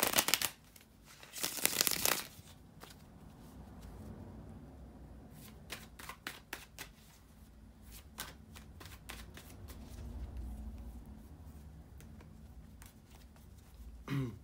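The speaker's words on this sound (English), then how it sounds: "bear with me a second, guys, to shuffle the tarot cards." Tarot cards are shuffled in two loud riffling bursts near the start, followed by quieter sliding, tapping and handling of the deck up close, with occasional sharp card snaps.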